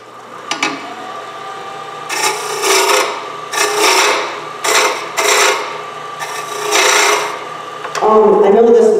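Hand tool roughing out the curved top of a carved wooden head, giving repeated rasping, scraping strokes in irregular bursts, close and fairly loud, with a brief tool knock near the end.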